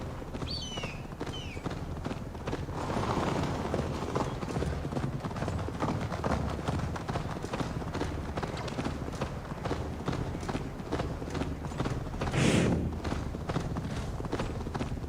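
Steady clip-clop of hooves at a brisk gallop in the video game Assassin's Creed Valhalla, with a horse whinnying at one point and brief voices in the background.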